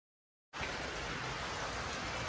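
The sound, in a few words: heavy rain falling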